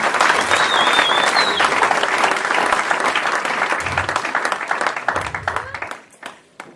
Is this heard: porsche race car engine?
no